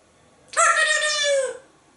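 A dog imitates a rooster crowing on cue, letting out a single drawn-out, howling crow-like call lasting about a second, loud and close with no talk over it.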